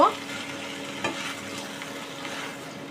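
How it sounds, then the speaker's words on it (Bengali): Chopped spinach leaves sizzle in a hot pan for a Bengali winter vegetable ghonto, a soft steady frying hiss with one clear clatter of the stirring spoon near the start of the clip. "পরিষ্কার করে কেটে রাখা পালং শাকগুলোকে দিয়ে দেব, দিয়ে খুব ভালো করে নাড়াচাড়া করে নেব"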